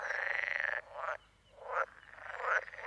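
A Lessona pool frog calls from an estuary pond, giving loud, close, rattling croaks in several bursts separated by short pauses, with no voices present.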